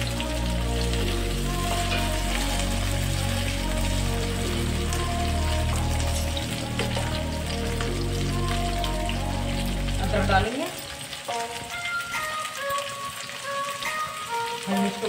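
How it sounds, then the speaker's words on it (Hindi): Soya chunks and tomato frying lightly in a pan, giving a steady rain-like sizzle with scattered crackles throughout, dropping to a quieter, thinner sizzle near the end. "इन्हें हल्का सा भूनेंगे, टमाटर को भी डाल देंगे"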